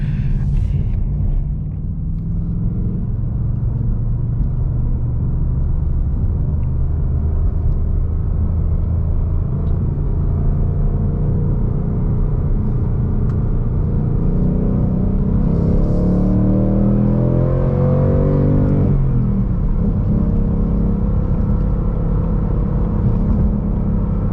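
A 2019 Ford Mustang Bullitt accelerates in second gear, a loud, steady low engine rumble filling the whole stretch, with the pitch climbing toward the end and no talk.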